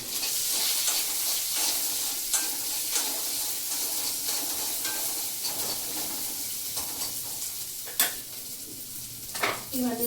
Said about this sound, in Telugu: నేను పోపులో వేసుకుంటున్నా కొంచెం.